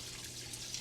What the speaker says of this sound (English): the water is pouring in